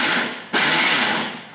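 A mixer grinder pulses once while grinding mango chutney, making a short close whir that restarts sharply and then winds down.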